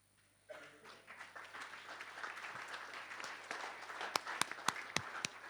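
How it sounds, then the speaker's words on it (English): A conference audience at the AFSA 2017 gathering bursts into applause after a quiet start, clapping building steadily, with a few sharp, close individual claps standing out near the end and a voice briefly audible beneath. "Nasser, you're receiving a round of applause for your positive action work"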